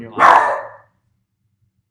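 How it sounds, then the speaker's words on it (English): A pet dog barks once indoors, a single short, fairly loud bark over a few words of conversation, then silence. "that's our dog"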